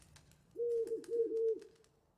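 A parrot in The Witcher 3 gives a single soft, warbling coo-like call lasting about a second, alone over quiet background.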